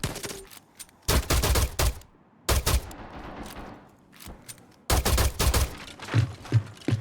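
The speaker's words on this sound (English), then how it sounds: "Trying to use a pistol to open a barricade." Pistol fire at a barricade in a video game comes in several loud, close bursts of rapid shots separated by short gaps, with quieter rumbling noise between the volleys.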